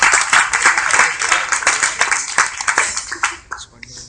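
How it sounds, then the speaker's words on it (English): Lively crowd applause at a press launch for a smartphone-tablet device, a dense burst of clapping that thins out and fades over its last second, with a faint voice near the end. "That deserves a round of applause."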